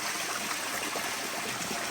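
Water from an off-grid source in Portland, Jamaica runs down a bamboo pipe, a steady close splashing trickle with a bright, constant wash and no break.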